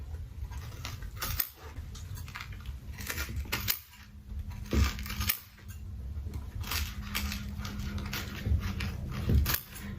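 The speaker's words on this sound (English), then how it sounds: "I'm just going to cut as close to it as possible." Scissors snip through the pleated fabric of a HEPA filter mask in a handful of crisp, close cuts against a rustling, handled background, with no talking.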